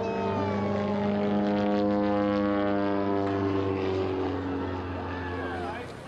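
An antique World War II military propeller airplane at an air show gives a loud, steady engine drone with a whining tone that eases slightly near the end.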